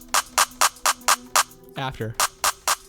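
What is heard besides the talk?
clap sample processed through free clip plugin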